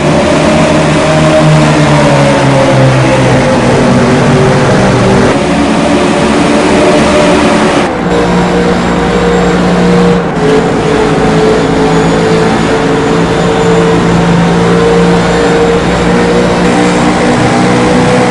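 Race cars accelerate off the green-flag start at Kentucky Speedway. Several engines blend into one loud, continuous roar, with shifting pitch as they climb through the gears, and no voices are heard.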